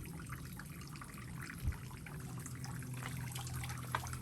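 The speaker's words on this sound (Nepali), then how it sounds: "हामी चाहिँ भड्किँदै भड्किँदै यो झर्नासम्म आइपुग्यौँ" A small waterfall on a nature-sanctuary walking trail keeps up a steady, even rush of flowing water from start to finish, fairly close and with no voices over it.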